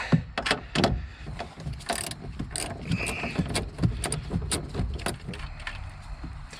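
An 8mm socket wrench breaks loose a taillight stud nut on a Nissan Altima, giving close, irregular metallic clicks, ratchet ticks and knocks over a low background rumble.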